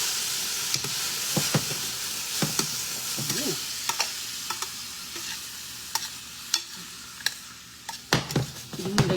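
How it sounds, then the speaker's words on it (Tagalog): Pine nuts stirred in a hot pan of olive oil, a steady sizzle running throughout with sharp scrapes and taps of the utensil against the pan at irregular intervals, close and clear with no talking. "lagyan natin ng kunting pine nuts, at saka halo-haloin."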